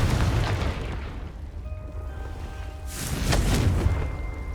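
A blasting-curse spell in the Hogwarts Legacy video game sets off a deep, rumbling explosion, booming and near, with a second swell of blast and debris rushing a moment later.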